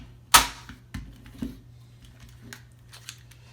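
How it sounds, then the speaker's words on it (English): A staple gun fires into cross stitch canvas, one sharp loud snap followed by several quieter clicks and taps as the material is handled. "Got my staple gun."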